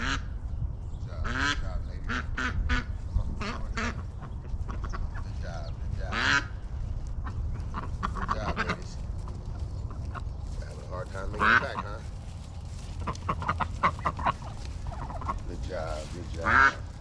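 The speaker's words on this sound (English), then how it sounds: "let me go get these ducks and put them away" Ducks in a backyard duck yard honk and quack repeatedly in scattered bursts, fairly close, over a steady low background rumble as a person moves around them.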